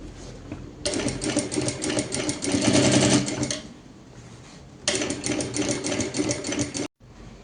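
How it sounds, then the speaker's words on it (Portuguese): A sewing machine runs in two sustained bursts of rapid stitching, sewing bias binding around the edge of an apron, with a quiet pause between the runs. "E agora a gente vai passar uma costura aqui, ó."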